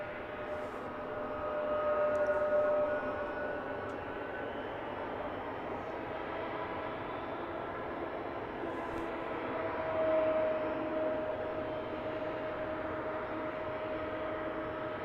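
A DHL plane departing London Luton Airport for Stockholm gives a faint, distant, steady jet rumble that swells slightly twice as it goes, heard alone without talk.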